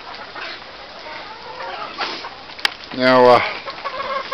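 A little Polish hen and other chickens cluck in a farmyard on a cold, windy February day, with soft clucks throughout and one loud, near burst of calls; a single spoken word sits just before it.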